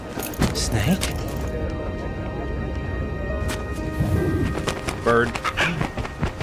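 A parrot in Metal Gear Solid 2: Sons of Liberty gives scattered squawks and coo-like calls alongside a sharp crack, mixed under ongoing game dialogue.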